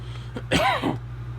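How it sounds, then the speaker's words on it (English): A single close, rough cough with a throaty rasp, brief and distinct over a low steady hum. "Apologies with the coughing there, so sorry about that."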